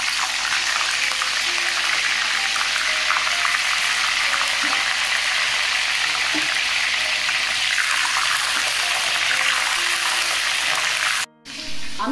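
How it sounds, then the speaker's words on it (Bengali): Cauliflower florets fry in hot oil for a labra vegetable curry, giving a steady, dense hiss that holds close and loud throughout, with faint clinks, before cutting out sharply near the end. "আমি প্রথমে ফুলকপিটা ভেজে নিচ্ছি"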